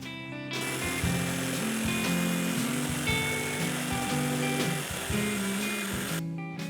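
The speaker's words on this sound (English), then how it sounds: "use a drill to make some starter holes and a jigsaw to then clean it up" A power drill and a jigsaw cut an opening for a router plate, giving a steady buzzing whine with stuttering, rhythmic pitch shifts as the blade works through the board. The noise runs loud and continuous, then stops suddenly.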